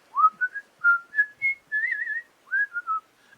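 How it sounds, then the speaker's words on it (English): Someone whistles a merry tune alone: a string of short, bright, rising and falling notes with small gaps, one longer held phrase in the middle, fairly close and clear. "and even perhaps whistle a merry tune"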